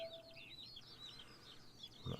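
Chickens from the farming video game Pure Farming 2018 give faint chirpy clucks in a quick, overlapping series, with a short thump near the end.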